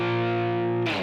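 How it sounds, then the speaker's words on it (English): A distorted electric guitar power chord holds steady and loud, then slides down in pitch near the end, with no talking over it. "you'll slide it down for a cool effect and then go back and hit the power chord again,"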